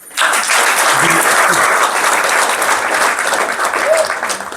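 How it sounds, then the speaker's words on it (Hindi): Audience applause in a spiritual gathering hall, dense sustained clapping starting abruptly and filling the space loudly, with a few voices faintly audible underneath. "इनकी तो ताली बजा दो"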